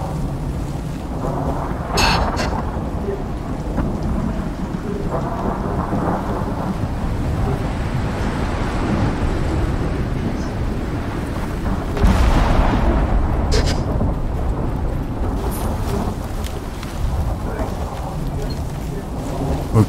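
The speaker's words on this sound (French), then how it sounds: "Nuage orageux dense, on va se faire foudroyer." A thunderstorm in the video game Icarus brings steady heavy rain with deep rumbling thunder rolls that swell twice, once early on and again more loudly midway through.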